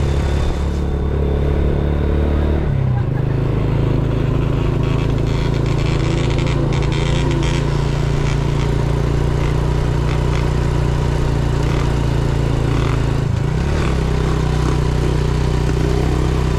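A motorcycle engine runs steadily throughout on a road from Montalban, Rizal to Antipolo, a loud, close, low rumbling drone with a brief dip in pitch near the start and again near the end.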